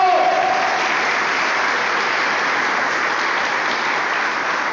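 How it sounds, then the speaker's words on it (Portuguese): Church congregation in Botucatu applauding steadily throughout, a dense, even wash of many hands clapping at moderate level with no break. "Palmas para o Senhor."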